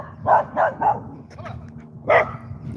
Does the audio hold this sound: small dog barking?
yes